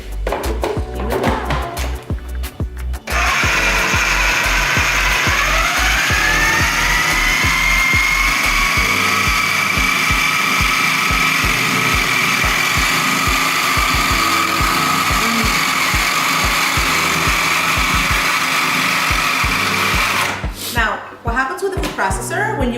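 A food processor chops pesto ingredients toward a chunky texture, a loud steady motor whir that spins up and runs continuously for about seventeen seconds, with brief clatter and handling noises before and after.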